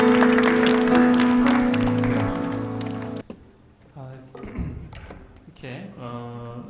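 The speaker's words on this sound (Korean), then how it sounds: "우리 주님께 영광의 박수를 올려드렸습니다" A church congregation claps for about three seconds over a sustained tone, then the applause stops and a voice starts talking in Korean.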